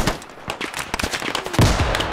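Rapid machine gun fire in the Squad video game runs as a dense, continuous string of cracking shots, loud and close throughout the short burst.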